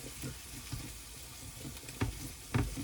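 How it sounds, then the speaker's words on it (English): Eggs frying in a hot cast iron skillet, a soft steady sizzle with faint crackle and a couple of brief clinks of a utensil near the end, quiet and close with no talk. "the eggs in my skillet are cooking a lot faster"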